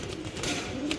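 Racing pigeons at a breeder's farm give soft, close coos over a continuous low murmur, with no talking.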